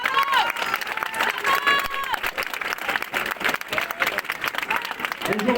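A crowd at a street demonstration in Arras applauds and cheers, with sustained clapping, whistles and shouted voices mixed together, loud and close throughout, with a voice rising briefly near the end.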